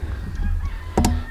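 A laying hen in a chicken run gives a loud, close, honking squawk.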